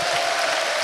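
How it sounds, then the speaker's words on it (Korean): A church audience at the Osanri Choi Ja-shil fasting prayer house claps to give glory to God, a short loud burst of dense, continuous applause with a faint tonal hum beneath. "하나님께 박수로 영광 돌립시다"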